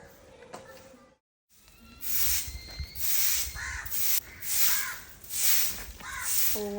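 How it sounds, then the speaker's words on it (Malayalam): A crow caws repeatedly, loud and close, in a series of harsh calls after a brief pause. "എന്തിന്നാന്നപ്പ ഈ കാക്കി ഇങ്ങനെ കിടന്ന് കരയുന്നേ"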